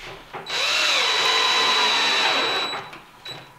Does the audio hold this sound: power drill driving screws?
yes